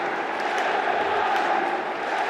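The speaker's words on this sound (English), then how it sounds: "What an animated crowd." Steady roar of an animated stadium crowd cheering at a Saudi football match, Al Nassr against Al Hazem, a dense, continuous wash of voices holding at an even loudness throughout with no single voice standing out.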